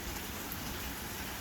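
Rain pouring outside onto potted house plants during a thunderstorm, a dense, even hiss of drops with no pauses, fairly faint and steady.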